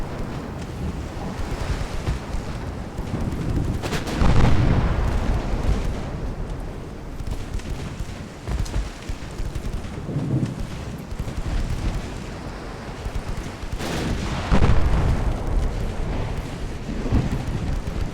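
Naval gunfire in Ultimate Admiral Dreadnoughts comes as heavy, rumbling booms at irregular intervals over a constant bed of wind and ocean surf, several deep blasts rolling out across the clip.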